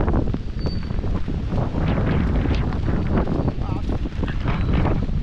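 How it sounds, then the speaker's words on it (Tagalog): Strong typhoon wind roaring and buffeting the microphone continuously, loud and rough throughout. "nasabak na naman tayo sa malakas na hangin"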